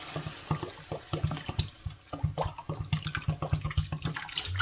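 Water pours from a filter jug in a steady stream with a gurgling, glugging rhythm as it fills a container close by.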